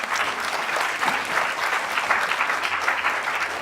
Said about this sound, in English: Could we have another big round of applause to them?